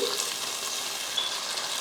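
Tomatoes frying in an aluminium biryani pot, a close, steady sizzle with faint stirring crackle running evenly throughout, no voices.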